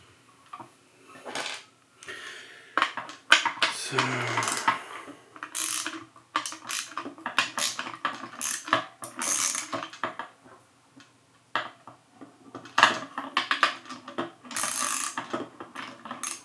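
A ratchet wrench clicks in repeated short bursts while tightening a part on an Alexa Classic Plus camera, interspersed with metallic handling clatter and pauses, close and without talk.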